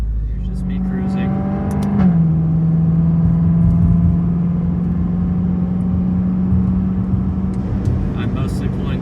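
A BMW E92 M3 engine hums at a steady, low drone while cruising under vacuum, with a brief shift in pitch early on and faint clicks over the constant road noise.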